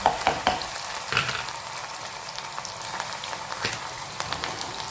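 Onions and tomatoes hit hot oil with cumin and mustard seeds in a pan, giving a steady close sizzle and crackle with a few sharper pops at the start and light stirring scrapes throughout.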